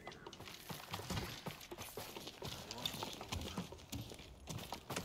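Horse hooves clip-clop steadily on the ground in the Ghost of Tsushima video game, a quiet, continuous patter of hoofbeats with a faint murmur in the background.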